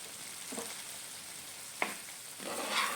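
Fasting-style gram flour pithla cooking in a pan, giving a quiet low sizzle with a few soft stirring scrapes, faint and close.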